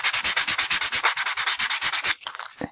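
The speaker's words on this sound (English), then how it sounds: "I probably can also use the sandpaper to flatten out those irregularities." Rhythmic scratchy sanding with sandpaper, quick back-and-forth strokes close up for about two seconds, then a few lighter rubs.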